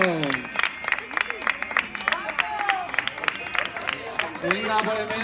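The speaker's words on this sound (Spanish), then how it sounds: "un aplauso." Wedding guests applaud as an entertainer enters, a steady patter of clapping mixed with crowd chatter and cheers, with voices talking over it throughout.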